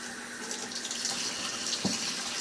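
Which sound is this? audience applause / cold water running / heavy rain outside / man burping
cold water running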